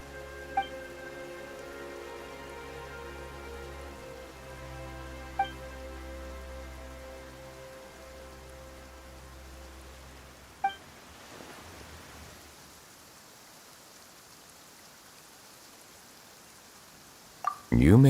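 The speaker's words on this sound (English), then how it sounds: "Why is it raining all of a sudden?" Steady rain falling in the video game Genshin Impact, set in Fontaine. A soft, even hiss of rainfall grows clearer as tonal background music fades out, with a few sharp drops near the end.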